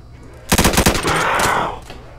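Rapid burst of automatic gunfire from a Roblox game, about a dozen sharp close shots in quick rhythm, followed by a longer rushing blast that fades out.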